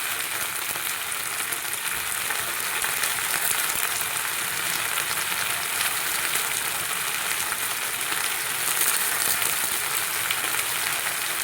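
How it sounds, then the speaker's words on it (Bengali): Food fries in a pan with salt and turmeric while being stirred, giving a steady, dense, loud sizzle that continues unbroken throughout, with no talking. "এখন 2 মিনিট নাড়াচাড়া করবো নুন আর হলুদের সাথে।"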